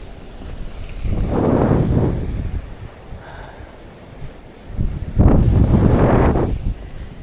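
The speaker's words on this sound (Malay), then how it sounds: "angin sangat kuat" Strong wind buffeting the microphone at sea during a boat fishing trip home at dusk, loud roaring gusts swelling and easing in two big surges with water noise beneath.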